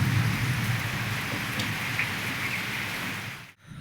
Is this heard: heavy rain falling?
yes